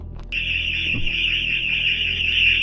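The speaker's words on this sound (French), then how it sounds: "devant laquelle l'alarme s'est stoppée net à mon approche" A car alarm at night sounds as a loud, steady electronic tone, close by and continuous, starting abruptly after a brief click and holding unbroken to the end.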